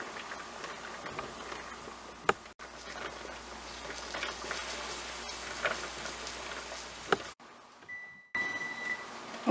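Kitchen timer beeping near the end of a pressure-canning run for green beans, a short steady electronic tone sounding once clearly and faintly before, over a low hum of the burner and canner.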